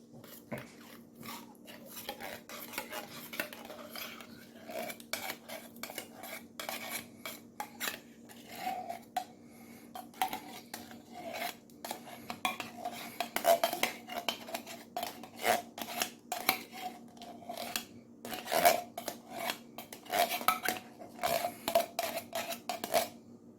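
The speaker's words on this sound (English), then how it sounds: "Give this a stir. Mix all this in." A spoon works through ingredients in a pot for an asparagus-stuffed Cornish hen dish, giving close, irregular scraping clinks and crunchy mixing sounds over a faint steady hum.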